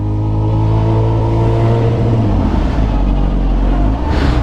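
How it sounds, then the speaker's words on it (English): A motorcycle held at full throttle for a power wheelie, its engine roaring loud and close in a steady, continuous drone that climbs slightly in pitch toward the end, with no voices. "power wheelie, just all throttle"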